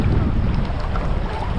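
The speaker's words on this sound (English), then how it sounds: "Yeah, it's windy, a lot of current," Loud, heavy wind buffets the microphone in a constant low roar aboard a boat at Miami, with faint water sounds underneath.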